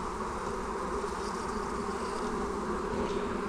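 A dense, steady drone of many honey bees buzzing up close at the hive, continuous and loud throughout with no voices.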